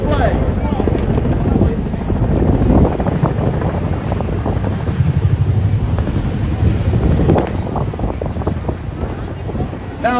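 RAF Chinook twin-rotor helicopter performing its 2022 display at the Eastbourne International Airshow, a loud continuous rotor roar with low-frequency thudding and wind buffeting on the microphone, holding steady throughout with faint crowd sounds beneath.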